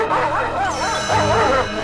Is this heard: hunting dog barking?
yes